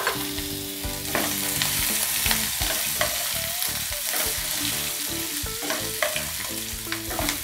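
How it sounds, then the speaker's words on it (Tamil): Parboiled potatoes fry in oil with curry leaves and fennel, giving a loud, dense sizzle close up, with frequent stirring scrapes and knocks against the pan. No voices are heard. "கொஞ்ச நேரம் நல்லா எண்ணெயில் அப்படியே ஃப்ரை ஆகட்டும்"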